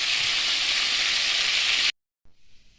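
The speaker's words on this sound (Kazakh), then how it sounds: "Осылай қуырылып жатыр. Баяу отта пісіресіздер осылай қуырып." Chicken thighs fry in oil over low heat with a loud, steady, bright sizzle that cuts off suddenly, followed by a brief fainter hiss.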